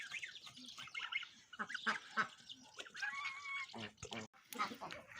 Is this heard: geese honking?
yes